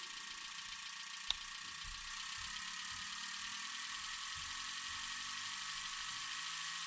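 Engine idling at a low 400 rpm on an EZ EFI 2.0 fuel injection setup, a steady close whir with a faint even low rumble and a brief tick, no voices.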